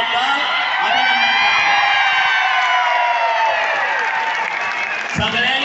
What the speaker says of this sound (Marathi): आपण सगळ्यांनी उभा राहून टाळ्या वाजवून